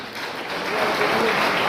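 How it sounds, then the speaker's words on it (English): A crowd applauds for the competing school teams at an inter-school quiz evening, a steady wash of clapping that swells slightly louder partway through and holds at a fairly close, even level. "can we have a big round of applause for Lodoma and Vision Academy?"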